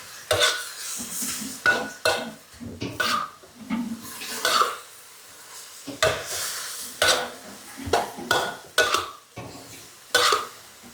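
Vegetables, phak kan chong greens, stir-fried in a wok filled to the brim, with repeated scraping and clanking of a metal spatula against the pan in irregular bursts over a soft sizzle, close and fairly loud.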